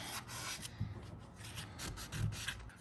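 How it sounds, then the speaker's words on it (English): Flaky paint on a Chevy Silverado pickup being hand-sanded with 400 grit sandpaper: repeated close, quiet rasping strokes in an uneven back-and-forth rhythm, with no talk. "This is 400 grit sandpaper, and I'll probably sand it with 600 grit on out a ways"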